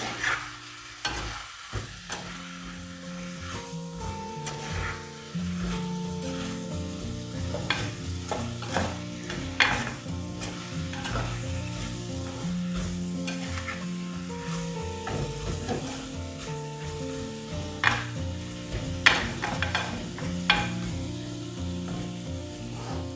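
A Sri Lankan village-style tomato curry with chili powder and salt sizzles in a pan while a spoon stirs and scrapes it in repeated close clinks and scrapes, with no talking.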